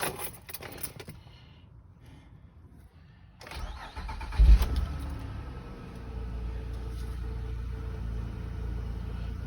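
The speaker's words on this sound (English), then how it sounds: "but the car started." A 2005-2010 Honda Odyssey with an O2 sensor fault has its key turned: the starter cranks briefly, the engine catches with a rising surge, then settles into a steady close idle.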